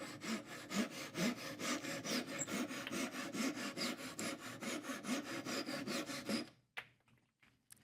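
Hand saw cutting through wood to free wedge tenons on a workstation, a loud, steady rhythmic rasp of back-and-forth strokes that stops abruptly, followed by a few faint knocks.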